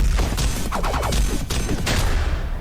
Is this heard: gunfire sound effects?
yes